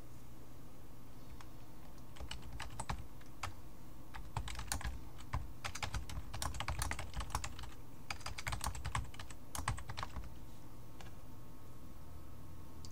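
An event description being typed on a computer keyboard: quick, uneven bursts of close key clicks with short pauses between words, heard alone over a steady low room hum.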